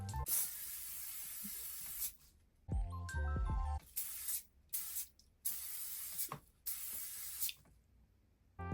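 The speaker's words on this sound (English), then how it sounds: "So I take my olive oil spray" Several short hissing sprays from an olive oil pump bottle, separated by brief pauses, close by, with a few faint clicks and handling noises in between.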